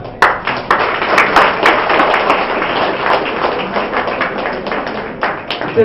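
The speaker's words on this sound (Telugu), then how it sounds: "Give a big clap." A crowd applauds at a film team felicitation event, steady dense clapping with sharper individual claps standing out, lasting throughout and swelling slightly at the end.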